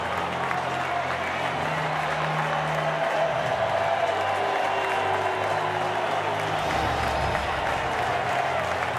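A home crowd at a Manly Sea Eagles rugby league match against the Warriors gives a Manly player a standing ovation, with sustained applause and crowd roar filling the stadium throughout.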